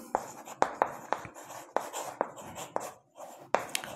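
Pen or chalk writing out the multiples of 4 for a class 5 maths lesson, a close series of sharp taps and short scratchy strokes in an irregular rhythm with brief pauses and no talking.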